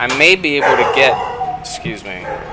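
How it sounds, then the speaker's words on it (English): A pet dog barks and yips loudly and close by in a few quick bursts, mixed with someone talking over it. "I apologize that my dog is causing so much noise."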